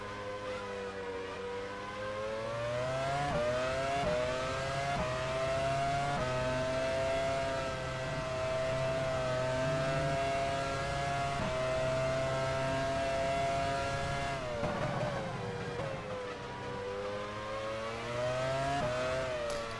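Formula 1 race car engines in the F1 Challenge 99-02 racing game at the 2000 European Grand Prix, a continuous high-pitched engine whine rising and falling through repeated gear changes, loud and steady throughout with no talking.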